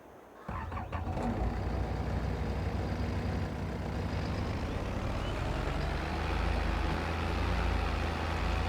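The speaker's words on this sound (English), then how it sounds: "I can't drive this dang tractor tonight." A tractor engine in the Farming Simulator video game starts up after a brief quiet moment and then holds a loud, steady low rumble that swells slightly toward the end, with no talk.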